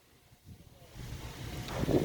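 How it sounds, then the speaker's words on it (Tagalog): Wind gusts build from near silence into a loud, rough buffeting roar across the microphone. "Grabe, lakas ng hangin."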